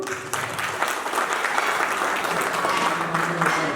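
Steady applause from a crowd greets ward committee members at a Nepali Congress party convention. The clapping is dense and even and lasts the whole stretch, with faint voices mixed in.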